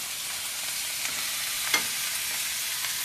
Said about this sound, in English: If you can hear that sizzle.